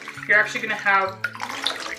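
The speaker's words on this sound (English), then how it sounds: "I'll just grab one here and wring it out." Dirty water splashes and drips as a cloth diaper is wrung out during stripping, close and moderately loud, under a person talking throughout.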